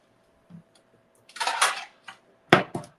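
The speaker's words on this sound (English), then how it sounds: "and I'll slide it onto a plate." Food slid onto a plate in a home kitchen during batch cooking, heard as a few soft scraping clinks and a sharper clatter of crockery near the end, close and quiet with no talk.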